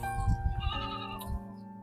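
Goats bleat on a farm in a series of nasal, wavering cries, loud and close, with livestock shuffling and low thumps underneath and no speech.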